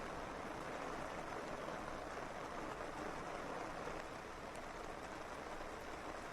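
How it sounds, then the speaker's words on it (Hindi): Heavy monsoon rain pours steadily over Delhi, a dense, even hiss with no breaks, fairly quiet and distant, with no voices. "तो झमाझम बारिश हो रही है"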